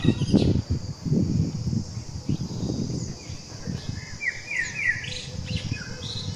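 Birds sing in a village: a busy mix of chirps and tweets, some near and some farther off, with light rustling in the background.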